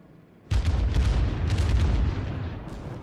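USS Pensacola firing its guns in World of Warships: a sudden loud boom that swells into a sustained, rumbling roar of gunfire lasting a few seconds, with no talk.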